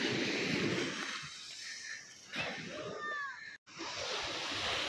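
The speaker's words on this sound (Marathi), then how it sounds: "समुद्राच्या लाटांचा आवाज येतोय" Sea waves wash onto the shore at Udupi in a continuous broad roar with a brief swell midway, heard on its own near the surf.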